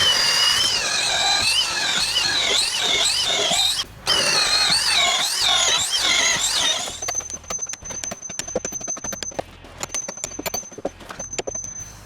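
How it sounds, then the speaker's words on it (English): Repeated metallic hammering and drill bursts as carriage bolts are driven through wooden deck support posts during a do-it-yourself deck framing job, a steady rhythmic knocking that gives way to sharp intermittent whirring and taps. "that's how you run carriage bolts through your posts for your support."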